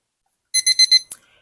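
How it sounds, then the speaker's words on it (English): A digital kitchen thermometer beeps as it is switched on: four quick, clear electronic beeps in a row, then a short click, close and loud against silence. "I'm going to turn on my timer or my thermometer"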